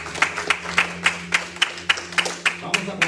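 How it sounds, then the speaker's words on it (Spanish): Congregation at an evangelical church service claps in a steady rhythmic beat, roughly three claps per second, sharp and close, with a low hum of voices and music underneath. "Sigamos adelante, un aplauso al Señor"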